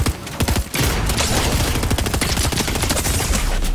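Rapid automatic gunfire in Fortnite Zero Build solo play, a loud, dense stream of shots firing almost without pause after a brief opening burst, with no talk over it.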